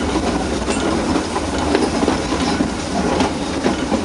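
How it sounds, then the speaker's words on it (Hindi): Nilgiri mountain railway train passing on an S curve through the mountains, a loud continuous rumble with rhythmic wheel clatter and faint squealing, close by throughout. "यस कर्व पर यह ट्रेन पास हो रही है, निकल रही है।"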